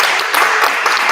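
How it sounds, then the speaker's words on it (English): A student union annual general meeting applauds its fellow councillors, with brisk, fairly loud clapping from a small group that stays dense and even for just over a second. "I want to give a huge final shout out and applause for all the fellow"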